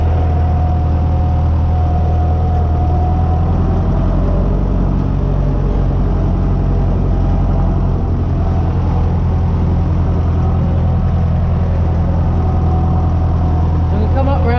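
A David Brown 996 tractor is driven, its engine a loud, steady low rumble close by that runs without a break the whole time.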